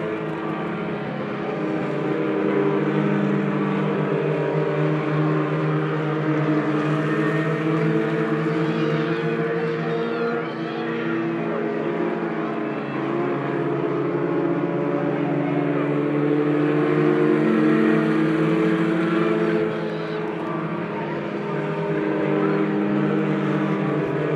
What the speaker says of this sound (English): Nick Bradshaw will come out of turn number 4.